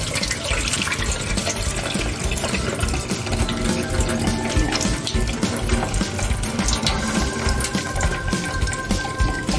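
Running tap water pours steadily into a sink as rice is washed for lugaw, a Filipino rice porridge. The splashing is close and constant, with no talking.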